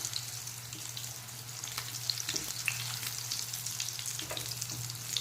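Veg cutlet patties fry in a pan over medium heat, a steady close sizzle and crackle with occasional soft pops and a low hum underneath, no talk.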